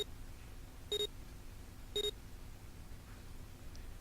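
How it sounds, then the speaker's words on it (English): A soft electronic beep sounds twice as a palm scanner authenticates players at a door in the video game 999, each a short, clean tone over faint background hum. "With a soft electronic noise, it authenticated each of them."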